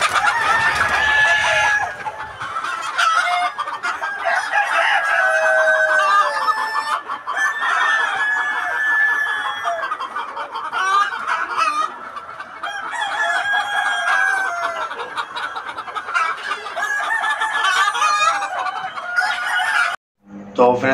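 Many Golden Misri chickens and roosters cluck and crow together steadily, a busy, dense flock chorus that continues throughout with repeated crows over constant clucking.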